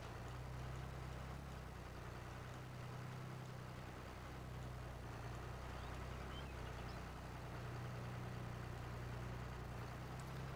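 A tractor engine rumbles in Farming Simulator 22 during lime spreading and oat seeding work, a steady low drone held at an even level with no talk over it.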